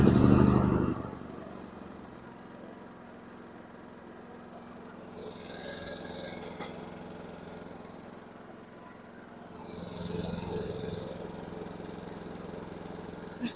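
A small inverter generator engine runs after an oil change, a steady mid-pitched droning hum that starts loud and settles into an even idle, with a slight rise in engine load near the end.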